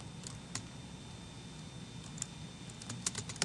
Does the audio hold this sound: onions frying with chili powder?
no